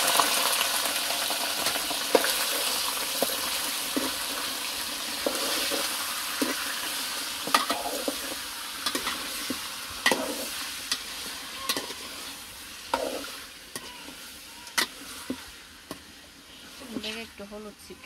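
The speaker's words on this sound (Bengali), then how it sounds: "মাংসগুলো তেলে ভেজে নিতে" Meat pieces frying in hot oil in a home kitchen, a steady sizzle with repeated sharp clinks and scrapes from stirring that grow busier toward the end, close by.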